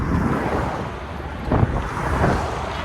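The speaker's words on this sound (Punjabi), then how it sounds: "ਹਵਾ ਚੱਲ ਵੀ ਠੰਡੀ ਠੰਡੀ" Cold wind blows during a bicycle ride from Punjab toward Himachal, a steady, loud rumbling rush buffeting the microphone, rising in a couple of stronger gusts.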